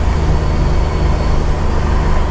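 A 1987 Buick Turbo T engine in regular driving, a steady low drone with road rumble, close and continuous with no talk.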